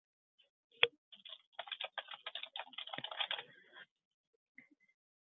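Quick burst of computer keyboard typing as a field name is entered, a rapid run of soft key clicks lasting about three seconds, near and quiet, framed by silence.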